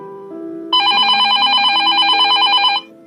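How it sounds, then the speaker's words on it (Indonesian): A mobile phone rings with a bright, warbling electronic tone that repeats rapidly for about two seconds, loud and close, then stops. "Mas, ponselnya dari tadi berdering."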